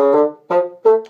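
Bassoon playing a short dramatic gesture from Weissenborn Study No. 15, Allegro scherzando: three detached, accented notes, close and clear with no other sound.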